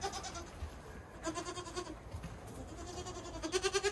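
Young goat kids, two to three months old, kept on a home dairy-goat farm in Kyzylorda, bleating in repeated short calls, several close by and fairly clear, the loudest cluster at the end.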